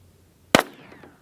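A single sharp crack of a .22 long rifle shot cartridge fired at Chinese bulletproof armor, loud and close, followed by a short fading ring.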